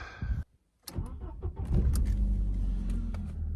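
A car starting and pulling away: a thump and brief rattle, then the engine catches and settles into a steady, close, low rumble, with no talking.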